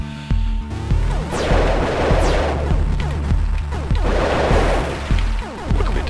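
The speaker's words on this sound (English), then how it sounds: "Dispatch him with some precision gunfire." Repeated Disruptor weapon fire in the video game Axiom Verge, a rapid run of sharp synthetic shots with crashing impacts over a steady low electronic music bed, loud and continuous.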